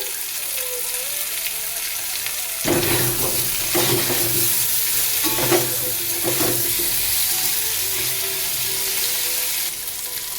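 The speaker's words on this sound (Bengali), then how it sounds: "টমেটোটা আলুর সাথে ভেজে নিচ্ছি" Potatoes and young tomatoes fry together in a pan for alu posto, a steady close sizzle with a few bursts of spatula scraping and stirring in the middle.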